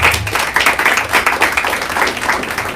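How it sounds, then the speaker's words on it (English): Clapping from a live panel audience, a loud close run of hand claps with uneven rhythm, fairly dense for a small crowd. "Let's give her a round of applause."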